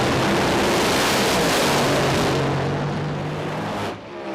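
Top Fuel and Funny Car drag racers at the IHRA North American Nationals thunder off the line with a loud, continuous engine roar that holds for several seconds, then drops off abruptly as one is lifted early.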